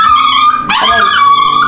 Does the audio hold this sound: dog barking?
yes